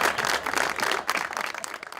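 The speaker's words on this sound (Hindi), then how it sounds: "तो सलमान के लिए भाई बहुत सारी तालियां हैं, बहुत सारी तालियां।" Studio audience applause on a Pakistani TV talk show, a dense, steady wash of many hands clapping close up, swelling and dipping slightly for about two seconds with no talk over it.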